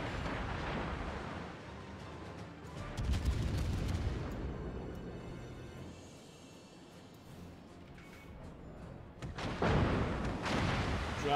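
Naval guns fire high-explosive shells in World of Warships: deep booming salvos with long rumbling tails, a heavy blast partway through and another loud burst near the end over constant low background roar.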